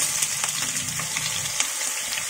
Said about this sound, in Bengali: এখন আমি দিয়ে দিচ্ছি পেঁয়াজটা